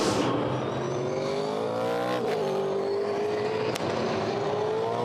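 V8 Supercar onboard engine, Paul Dumbrell at turn 11 at Yas Marina in 2011, with a loud, continuous engine note rising and falling through the corner as revs shift, gear changes audible, no talk.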